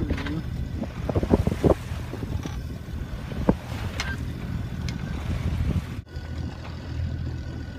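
Steady wind rushes past a Kings Cruiser 33 sailboat under way toward Skagen, with broadband gusting noise, occasional creaks and knocks from the rigging and hull, and a sharp drop in level near the end.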